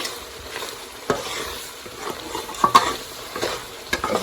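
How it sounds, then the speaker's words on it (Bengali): Beef sizzles in mustard oil with ginger, garlic and biryani masala for tehari, a close, steady fry broken by a few sharp spatula scrapes and clinks against the pot. "এখন আমি মাংসটা যে এখানে দিয়ে দিব এর মধ্যেই আমার এই যে বিরিয়ানি মশলাটা মানে কষানো হয়ে যাবে মাংসের সাথে"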